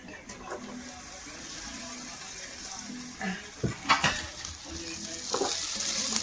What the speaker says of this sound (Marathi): आता टाकूया चिकन बघा.